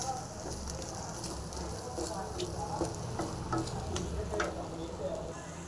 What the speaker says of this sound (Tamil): அது நல்லா கொஞ்சம் ஃப்ரை ஆகட்டும்